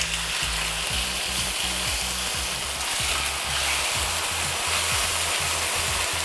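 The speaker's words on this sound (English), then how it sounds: "So you should hear that sizzling sound when you place your chicken down." Pieces of marinated Korean BBQ chicken sizzle loudly as they are laid into a hot pan on high heat. The frying hiss is steady and close, with soft knocks and scrapes of handling underneath and no speech.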